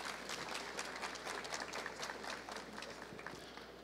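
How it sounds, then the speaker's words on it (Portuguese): Applause from an audience at a corporate event or ceremony, steady dense clapping filling the room throughout, fairly even in level with no voices standing out. "Obrigado pelas palmas"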